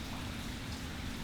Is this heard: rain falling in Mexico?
yes